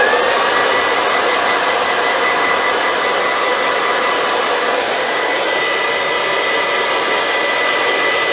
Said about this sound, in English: I'm just going to quickly blast those with my hairdryer